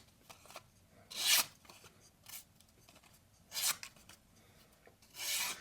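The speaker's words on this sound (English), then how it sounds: "it cuts the paper" A Kizer Seagull knife slices through paper in four separate crisp rasping strokes, each a short, close, dry swish with quiet pauses between them and no talk.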